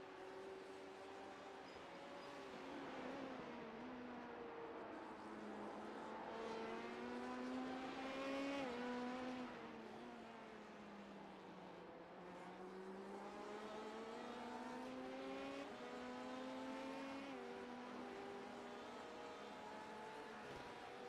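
Several LMP2 prototype race cars pass one after another in the iRacing sim, engine notes rising and falling in smooth overlapping sweeps, steady and fairly loud with no talk.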